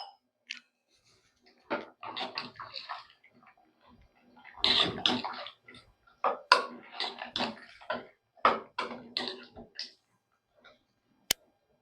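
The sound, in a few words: water being poured into sambar while cooking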